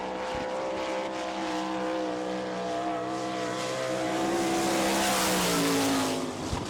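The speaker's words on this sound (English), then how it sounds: "Gary, the owner of the car, a Maxim chassis and a Salina Racing engine." A sprint race car with a Maxim chassis and Salina Racing engine on a qualifying lap at a Florida speedway, its engine droning loud and steady, then rising in pitch as it accelerates past, no voices.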